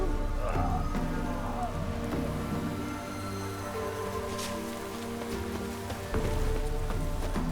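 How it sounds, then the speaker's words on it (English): Steady rain falls in The Witcher 3, a continuous hiss of drops on surfaces with a faint low rumble beneath, moderately loud and unbroken, no voices. "Looks like rain."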